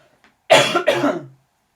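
Two quick, harsh coughs close to the microphone, back to back, with no talking around them.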